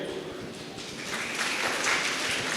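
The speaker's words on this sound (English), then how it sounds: "Give her a big round of applause." Scattered clapping from an audience at a university day celebration swells slightly and continues steadily, moderately distant, with a faint voice mixed in.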